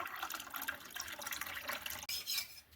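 Water poured into a glass for lemon water in a home kitchen, a soft continuous trickle with a brief break before the stream resumes, close and fairly quiet.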